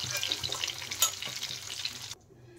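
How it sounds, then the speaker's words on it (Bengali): Paneer pieces crackle and sizzle in hot oil while being flipped, a busy close-up frying noise with sharp spatters that stops abruptly near the end, leaving near silence. "নেড়ে নেড়ে পনির দেখেন এপিট ওপিট করে ভালো করে আমি ভেজে নিচ্ছি"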